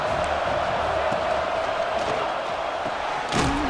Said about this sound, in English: Listen to this crowd begging its defense to get a stop.